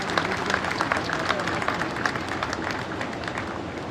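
Steady applause from a crowd at a war memorial inauguration in Churu, India, dense and continuous clapping at an even level throughout with no pauses.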